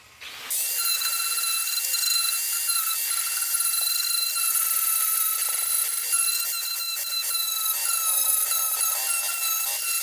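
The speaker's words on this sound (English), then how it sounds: "Sander muna tayo, guys, para kumapit ng mabadi ang welding." A sander grinds the chassis frame of a Suzuki F6a before welding. After a brief quiet start, a loud, continuous high whine runs with small scraping variations, close by and with no talk.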